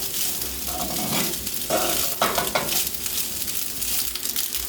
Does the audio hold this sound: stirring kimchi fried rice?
yes